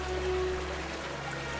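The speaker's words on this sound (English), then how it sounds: "Savica Waterfall is formed from underground water flowing through the karst cave system" Savica Waterfall in the Julian Alps pours from a rock opening into the valley, a steady, continuous rushing roar of falling water with no pauses or voices.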